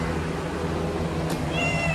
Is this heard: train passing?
no